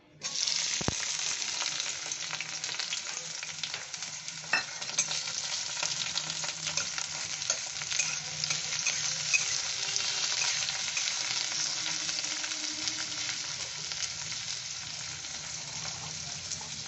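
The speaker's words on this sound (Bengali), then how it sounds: "কড়াইতে আমি সর্ষের তেল দিয়ে দিয়েছি এই যে সর্ষের তেল দিয়েছি আর এর মধ্যে পেঁয়াজ আর কাঁচা লঙ্কা ফোড়ন দিয়ে দিচ্ছি" Onion and green chili sizzling in mustard oil in a wok, a steady, dense frying hiss that runs close and even throughout with no talk.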